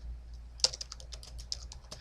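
Quiet, brisk typing on a computer keyboard while filling in a lease, a run of light clicks with a few sharper key strikes, heard alone without talk.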